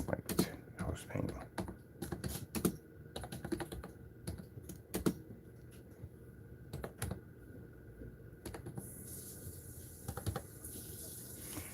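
Quiet clicking of typing on a computer keyboard, in irregular bursts of keystrokes with a faint hiss in the background and a voice talking in places.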